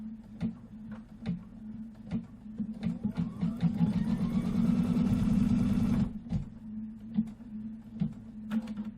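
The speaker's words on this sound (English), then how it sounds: "foot down and let's stitch out these little trimming guides" An embroidery machine stitches trimming guides onto a cherry quilt block, a rapid mechanical chatter over a steady low motor hum that builds into a denser whirring run before settling back into clicks.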